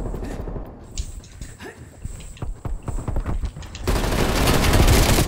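Shotgun fire in the online shooter Call of Duty Cold War, heard as a run of quick, sharp blasts and clatter, followed by a louder, dense burst of noise toward the end.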